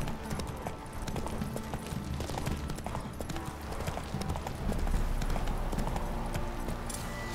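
Horse hooves clip-clop in a steady rhythm as a mount is ridden in The Witcher 3, continuous and fairly loud over the game's ambient background, with faint speech.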